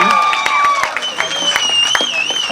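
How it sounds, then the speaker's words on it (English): Brief burst of audience clapping for panelists at a regenerative farming mentorship event, scattered claps under cheering voices and chatter. "Can we give a round up for our panelists, please?"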